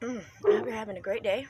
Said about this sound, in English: Oh, you can hear my dog barking.